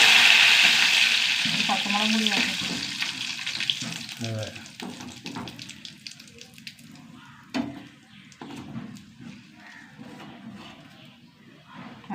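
Chicken frying in a pan of oil gives a steady bright sizzle that is loudest at first and gradually fades, with a person talking over it and occasional clatter.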